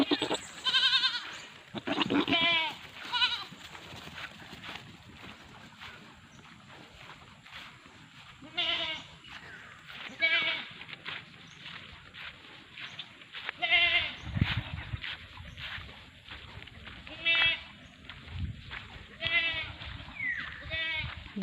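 Goats, including a buck, bleat one after another at a farm, giving loud, wavering calls spaced a second or two apart over a quiet background, with some calls close and some a little farther off.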